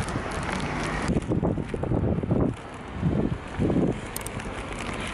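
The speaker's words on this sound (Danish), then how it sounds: "det blæser i dag" Outdoor wind buffets the microphone as a steady, rough roar with gusty surges, loud and close, and no clear speech over it.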